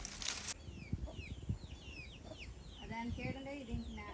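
Chickens clucking and chirping softly nearby, scattered calls over faint background murmur and rustling, with a brief burst of noise at the start.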